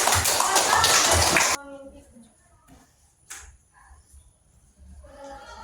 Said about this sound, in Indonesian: Silakan duduk, tepuk tangan untuk penampilan.